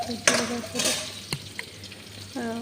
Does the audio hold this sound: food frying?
yes